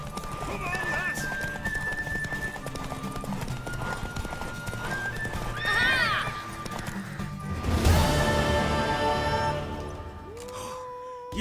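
A horse in The Witcher III gallops with rhythmic clip-clop hoofbeats and lets out neighs and whinnies, while characters' voices and game sounds mix in around it.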